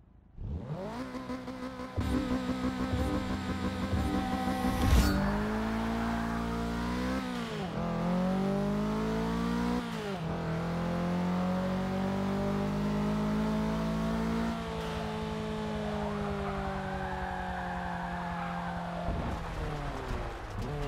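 A race car in Forza 6 at Brands Hatch revs hard through repeated gear changes, its engine pitch climbing and dropping through corners, loud and continuous, with a brief tire squeal and no voices.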